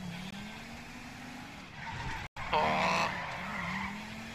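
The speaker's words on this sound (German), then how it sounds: "Die Karre schlittert" A car skidding in the video game GTA V, a near tire squeal that rises and scrapes over a steady engine drone, with a brief dropout and a louder burst of screeching afterward.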